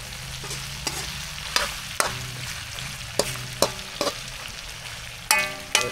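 Meat frying in its own rendered fat, a steady close sizzle broken by repeated scrapes and clacks of a utensil stirring in the pan.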